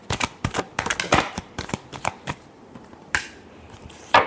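Tarot cards are shuffled by hand in a quick run of crisp riffling bursts and flicks, close and fairly loud, easing off midway before a few final snaps.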